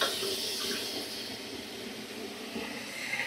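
Water is poured into a cooking pot holding a mustard and poppy seed paste gravy, a steady broadband rush and splash sustained at moderate level through the whole stretch with no talk over it.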